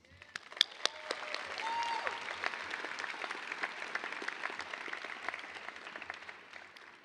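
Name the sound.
applause from graduation audience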